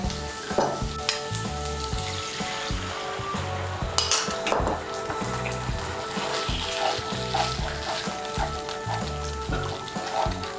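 Sauce and cornflour batter poured into onion and capsicum frying in a pan, a steady loud sizzle running throughout with occasional clinks and scraping from stirring.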